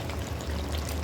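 Water poured into a pot of chicken and potato curry, a brief steady splashing stream, close and alone.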